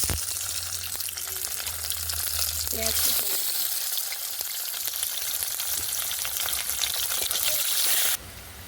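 Whole garam masala, bay leaves and slit green chillies hitting hot oil for Bengali mutton kosha, a loud, close, steady sizzle with a low rumble early on and a few light clinks, dropping off sharply at the very end.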